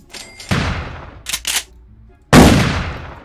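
Combat shotgun blasts in a Roblox game: two loud, close booming shots about two seconds apart, with a short double mechanical clack between them.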